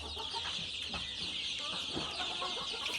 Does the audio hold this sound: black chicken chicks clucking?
yes